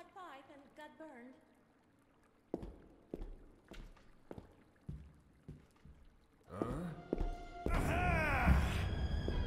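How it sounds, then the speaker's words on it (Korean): Several separate footsteps in the horror game Metel thud at an uneven pace, fairly close and soft, before louder game sounds and a voice take over. "아 내 발소리."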